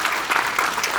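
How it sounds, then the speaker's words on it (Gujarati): An audience claps in a dense, steady burst of applause after a Gujarati theatre comedy show segment, filling the room without any break. "એક જોરદાર તાળીઓ once again for both of them."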